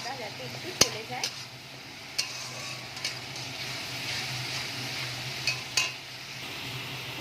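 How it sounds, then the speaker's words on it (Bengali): Ginger-garlic paste masala stirred in a pan with oil, a soft background sizzle punctuated by several scattered spoon scrapes and taps against the pan, fairly quiet and close. "এবার ভালো করে নাড়াচাড়া করব, মশলার কাঁচা গন্ধটা যাতে একটু চলে যায়।"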